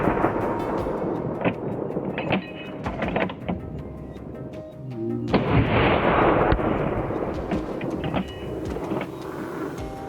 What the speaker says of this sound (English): Within seconds, multiple shots rang out.